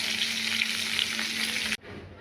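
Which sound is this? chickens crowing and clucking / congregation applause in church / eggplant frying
eggplant frying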